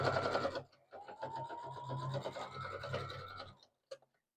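Sewing machine stitching pieces of fabric for a multicolored blanket, a steady close mechanical whir lasting a few seconds before stopping, with a faint voice underneath.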